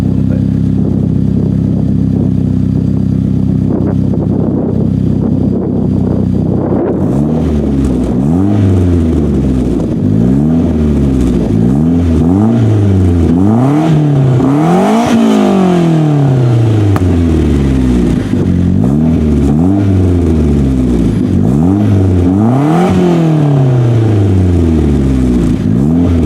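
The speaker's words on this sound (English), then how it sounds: "now I should have enough heat in it to rev it up a little bit" A 2009-or-later Mitsubishi Lancer Ralliart with a DC Sports single exit exhaust revs repeatedly from idle, each loud blip rising and falling in a steady series of sweeps over a constant close engine drone.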